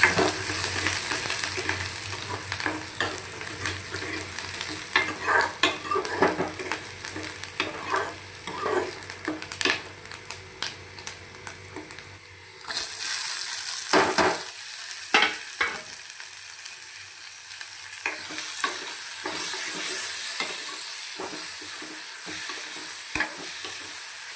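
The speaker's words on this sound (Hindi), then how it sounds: "अभी लगाती हूँ मैं दाल को तड़का।" Steady sizzling of a tadka of asafoetida, cumin, tomato and onion frying in hot oil for lentils, with scraping stirring sounds, close and continuous, a sharp burst of sizzle midway.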